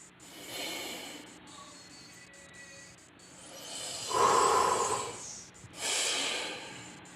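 Heavy, audible breathing up close: slow drawn-out breaths with a loud, rough exhale and a sharp snort-like inhale.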